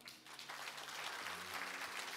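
A church congregation claps steadily, a dense wash of applause from many hands, fairly distant and even throughout.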